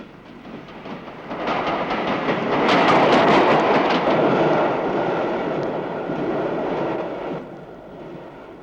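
A train rolls steadily along the rails, a sustained loud rumble with rhythmic clickety-clack building in the middle and easing off toward the end, with no voices.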